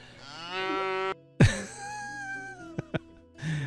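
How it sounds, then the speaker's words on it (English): A cow lows in the farming game Medieval Dynasty, two long drawn-out moos, the first steady and the second falling away, with a few short clicks between them and no speech. "Sobomir, what are you doing with that cow"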